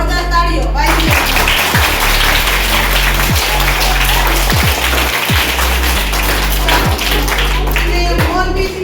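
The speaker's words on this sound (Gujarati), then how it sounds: "જોરદાર તાળીઓ વાયજીએસ." Loud, close applause and clapping from a crowd of students at a school election results announcement, continuous and dense with tapping beats over a strong low hum.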